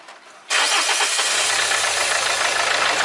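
A Renault 1.5 dCi K9K diesel engine turns over and catches at half a second, then runs steadily with a loud broadband clatter and a low idle hum beneath.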